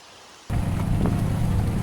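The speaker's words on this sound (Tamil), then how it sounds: "1/2 மணி நேரம் ஆச்சு, இன்னும் மழை நிற்கல." Heavy rain on a hill road near Kanyakumari, in Tamil Nadu, India, starts suddenly after a quiet half second and becomes a loud, dense, steady downpour, with deep rumbles that suggest thunder underneath.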